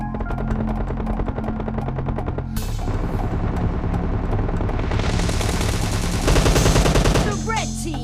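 Video game gunfire from PUBG Mobile played on a Samsung Galaxy F62 phone, dense automatic bursts and shots layered over game music and effects, loud and continuous, with an announcer voice mixed in.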